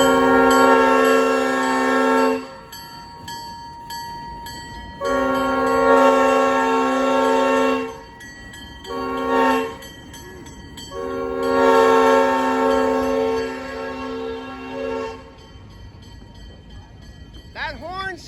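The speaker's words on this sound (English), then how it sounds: "That horn sound that you hear, that's the crossing sound." A Catskill Mountain Railroad train horn blows a crossing signal: a long blast, another long blast, a short one, then a final long blast, loud and close, with rail rumble between.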